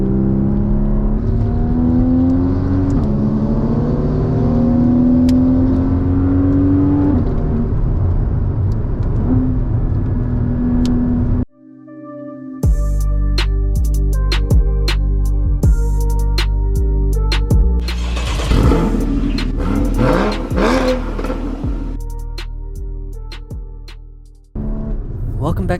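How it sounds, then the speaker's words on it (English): Porsches, including a 964 Turbo, are driven hard along a twisting mountain road in Doi Nok, Thailand. Engines rev and whine through rising and falling gears, then the sound cuts to a louder stretch of sharp revving and passing engine roar. "You'll be watching me chase my two buddies in their Porsches and driving rather spiritedly."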